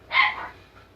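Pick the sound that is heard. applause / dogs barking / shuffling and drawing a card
dogs barking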